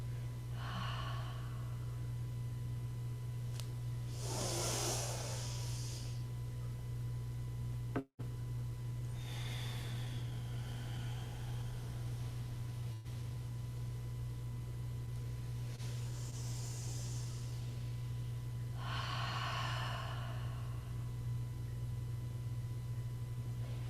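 Several slow, airy exhales during a yoga practice, spaced a few seconds apart over a steady low hum, with one sharp click in between.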